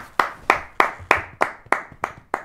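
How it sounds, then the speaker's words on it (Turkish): One person clapping while seated, eight sharp evenly spaced claps, close and alone, with no voices. "Ben oturarak alkışladım."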